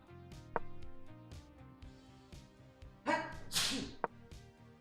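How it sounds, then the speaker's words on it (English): A single sharp sneeze bursts out over faint background music, with a couple of quick clicks around it. "I'm going to sneeze."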